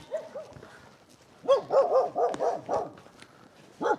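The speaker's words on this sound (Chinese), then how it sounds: "哇，还有狗在里面。" A dog at a two-storey mud-brick house in a remote Hunan mountain village barks in a short burst of several quick yaps, then gives one more bark after a pause, heard at moderate distance.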